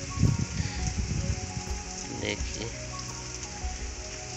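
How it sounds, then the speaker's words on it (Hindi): Heavy rain falls in a steady hiss while frogs croak loudly and repeatedly close by, with a brief spoken word near the start. "देखिए इधर कितना बारिश हो रहा है, डेली इस टाइम बारिश हो जाता है।"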